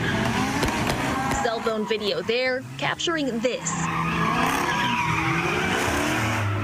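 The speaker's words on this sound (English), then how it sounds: "doing burnouts in the intersection" Cars doing burnouts in an intersection during a street takeover in Bayview, with sharp squealing tires and revving engines, loud and close, while a voice talks over the opening seconds.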